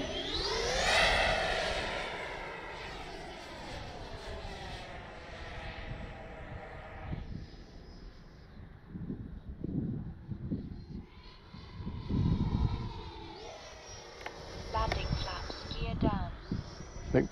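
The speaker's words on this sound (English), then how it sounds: "Let's bring her down kind of low, closer to the runway, like I'm going to do a landing approach." A Freewing Avanti S 80mm RC jet makes a low pass near a runway, its ducted-fan whine sweeping in pitch as it approaches and passes, while someone talks over it.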